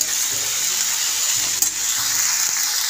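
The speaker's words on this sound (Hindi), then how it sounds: "इसको अच्छी तरह मिक्स करूँगी अच्छी तरह भूनूँगी टमाटर के साथ और प्याज के साथ" Mixed vegetables with carrot, bell pepper and potato sauté with tomato and onion in a pan, giving a steady close sizzle with soft stirring scrapes and a brief clink partway through.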